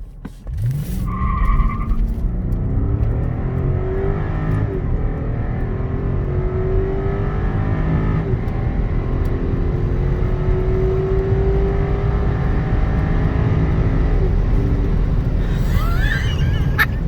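A 2005 Cadillac STS with a V8 engine accelerates hard from a standstill to 90, a loud steady engine roar climbing through gear shifts across the run, with a brief brake screech at the start.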